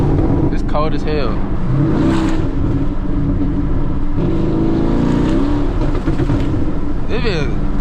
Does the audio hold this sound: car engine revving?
yes